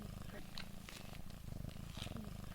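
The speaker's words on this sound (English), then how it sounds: "Takira is snuggling her cat Oreo while we talk." A cat named Oreo purring up close with a soft, steady low rumble while a person speaks over it.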